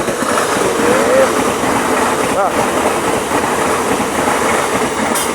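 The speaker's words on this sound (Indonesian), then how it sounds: "nggak taunya keretanya dua Mas Bro. Kaget aku, kirain aku keretanya satu" A KAI airport train, running as a double train near Pesing station, thunders past close by with a loud, steady rumble and wheel clatter, a faint squeal, and a brief voice.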